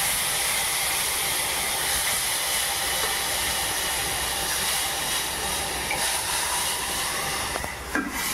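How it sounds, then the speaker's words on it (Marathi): Chana dal cooking water poured into a hot tempering of curry leaves, chilli and turmeric for puran poli, giving a loud, steady hiss that fills the whole stretch with no talk, with a brief clatter near the end. "आणि मग हा चण्याच्या डाळीचा पाणी टाकायचं"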